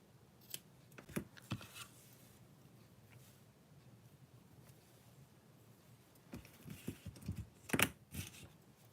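Scissors snip through string for a string art flower project, a few quick close cuts in brief clusters separated by quiet handling.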